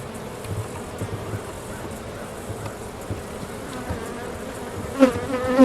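Honey bees buzzing steadily around an open hive during a November inspection, a dense close drone with a few brief louder passes near the end.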